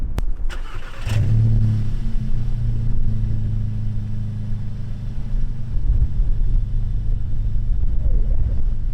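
A Golf R or Audi S3 engine fires up with a sharp burst through an aftermarket exhaust, then settles into a deep, throaty exhaust rumble, with a few light revs toward the end.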